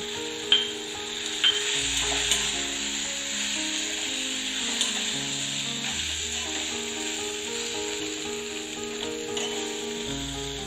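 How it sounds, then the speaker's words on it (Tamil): Chopped tomatoes and grated coconut saute in a pan for a spicy chutney, giving a soft continuous sizzle with occasional scraping and stirring knocks; close, fairly quiet, with no voices. "இப்ப தக்காளியும் ஓரளவுக்கு நல்லா வதங்கட்டும்"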